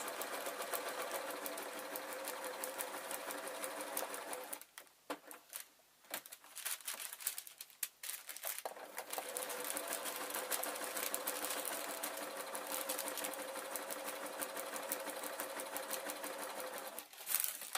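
A sewing machine stitches ghost bunting in steady, fast runs along marked lines, pausing briefly near the middle before resuming its close, continuous whirring rattle.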